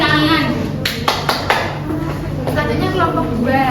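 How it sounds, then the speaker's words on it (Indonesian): Scattered clapping from a small classroom audience applauding a student group after their microteaching presentation, a few sharp claps standing out over a steady bed of room noise and voices. "Baik, tepuk tangan untuk kelompok 1."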